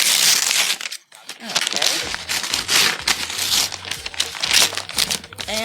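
An eBay parcel is cut open and unwrapped, giving loud, close crinkling and crumpling of plastic and paper, with tearing bursts and a short pause early on, while a person talks over it.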